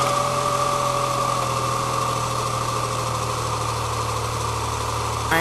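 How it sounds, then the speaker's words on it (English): A car engine idles steadily with a constant low hum and mechanical rumble, loud and close, holding an even level throughout. "Now we're ready to start the engine."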